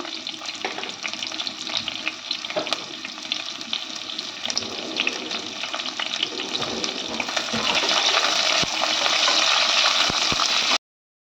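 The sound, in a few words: onions frying in a pan for biryani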